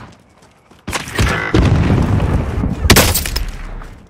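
Sniper gunfire in Call of Duty Warzone Plunder mode, with a sharp loud shot that opens into a rumbling boom, followed by sustained noisy game ambience and a second burst near the end.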